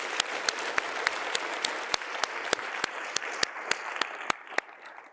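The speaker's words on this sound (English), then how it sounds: "Please applaud them because they put a lot of effort to this ceremony." An audience applauds at an academic-year inauguration ceremony for an engineering faculty, producing dense, sustained clapping that fills the room, with a few sharp, louder claps standing out near the microphone.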